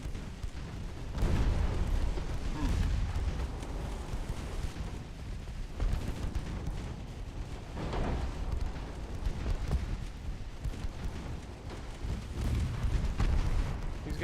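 Heavy naval shells burst in a warship battle game, including 11-inch base-fuse high-explosive rounds from a light cruiser. Deep rumbling booms roll on continuously with several louder surges, and no voices are heard.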